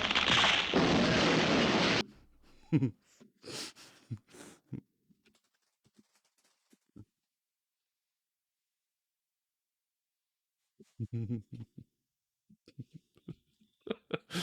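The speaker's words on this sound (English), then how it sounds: "why did they add a sound effect of the massive crash sound?" A loud, roaring crash-and-blast burst lasts about two seconds, then cuts to near silence, leaving scattered faint pops and thuds.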